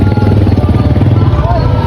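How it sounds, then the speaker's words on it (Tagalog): A motorcycle engine warms up close by, a loud, steady, rapid low throb that fills the whole stretch without a break. "tagal magpainit pa ng makina ni Payat."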